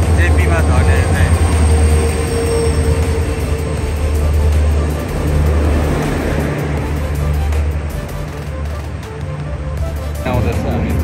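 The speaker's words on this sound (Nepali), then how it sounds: "हाम्रो चाहिँ यो राजधानी एक्सप्रेस ट्रेन आउँदैछ।" Rajdhani Express passenger train arriving at a station platform, a loud continuous rumble with steady low-frequency drone and rail noise throughout, voices talking over it.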